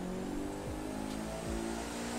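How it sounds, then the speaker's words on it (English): A '99 Mitsubishi Eclipse GSX turbo in the racing game The Crew 2 revving through quick gear shifts, engine pitch climbing and dropping twice in a short, close burst. "I just love that turbo discharge and the backfire."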